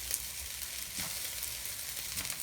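Mee goreng noodles frying and being mixed in a hot pan give a steady close sizzle, with faint scraping of stirring running through the short stretch and no voices.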